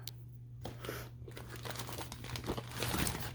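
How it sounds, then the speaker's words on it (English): Gallon plastic bags are handled up close, giving soft, continuous crinkling and rustling that grows a little busier toward the end, with faint speech in the background. "always pack plastic bags. These are gallon bags."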